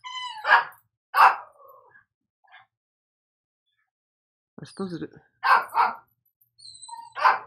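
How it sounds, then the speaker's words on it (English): Dogs bark indoors in the room, several sharp barks in short bursts with gaps between, alongside a person speaking briefly. "Sorry about the dogs."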